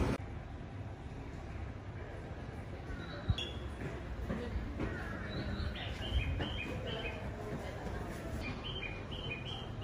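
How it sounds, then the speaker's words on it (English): Birds chirp faintly at night in Tokyo, giving short, scattered high tweets over a low, steady hum of background noise, with one sharp knock partway through. "I haven't heard those birds in a minute."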